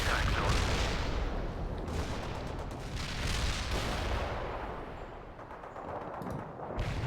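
Artillery strike in the World in Conflict video game: heavy booming impacts and rumbling blasts roll continuously, dense and loud, with a voice faintly underneath.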